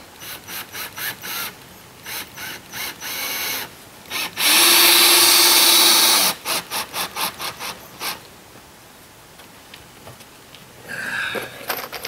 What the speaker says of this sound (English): These self-tapping screws are not easiest to work with.